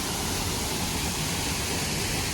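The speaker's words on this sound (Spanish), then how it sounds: "También hay una cascada." Waterfall near the river below Goa Gajah cave in Bali, a steady, dense roar of rushing water heard close and loud, with no voices over it.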